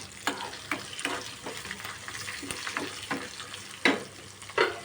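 Cashews and curry leaves fry in hot oil with green chilli and ginger for tamarind rice, a steady close sizzle broken by repeated scraping stir strokes and a few louder spatters.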